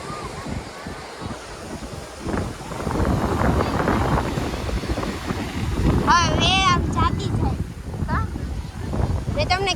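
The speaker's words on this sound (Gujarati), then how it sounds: "પવન કેટલો ઉડે અહીંયા" Strong wind roars and buffets the microphone by the sea, with surf rumbling underneath and a high voice calling out briefly.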